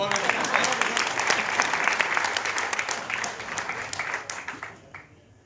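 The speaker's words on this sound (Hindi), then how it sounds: "तो मेरा स्वागत में तालियां बजा दूं।" Audience applause at a Hindi poetry recital (kavi sammelan), a steady wash of many hands clapping that swells loud and then fades away toward the end, with no voices over it.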